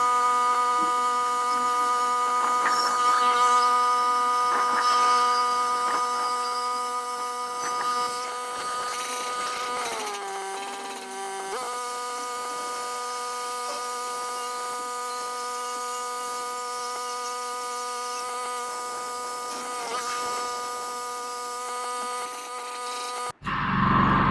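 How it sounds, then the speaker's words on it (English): A portable band saw cuts through a rotting handrail with a loud, continuous high-pitched tonal whine that holds steady, dips in pitch briefly as the blade bogs down, then runs on before cutting off abruptly. "I'm not the best with the portaband"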